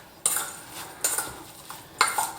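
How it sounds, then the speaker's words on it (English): A spoon scrapes and clinks against a bowl while apples get tossed with sugar and spices, three distinct stirring strokes about a second apart, close and fairly quiet. "And then we just mix that all up. Got sugar and spices evenly distributed with my apples."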